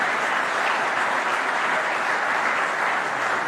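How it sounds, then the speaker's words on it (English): Audience applause for a women's cycling team presentation, a dense, even wash of many hands clapping, sustained and loud from start to finish. "a round of applause for Team As It Works"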